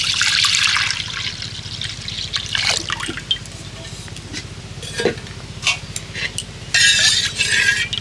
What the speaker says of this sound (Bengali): উনান জেলে নিয়েছি, কড়াইতে দিয়ে দেব দুধ